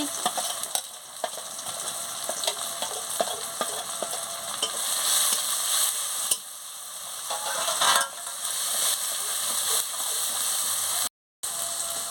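Ground spices with garlic paste, salt and turmeric frying in a pan for a pointed gourd fish curry, a continuous loud sizzle with repeated scraping stirs and a brief silent gap near the end.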